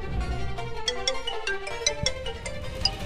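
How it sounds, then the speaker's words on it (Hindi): A mobile phone ringtone plays a bright, repeating electronic melody, fairly close and steady, with no voices over it, in the Hindi TV series Naagin 3. "तुम्हारा फोन बज रहा है"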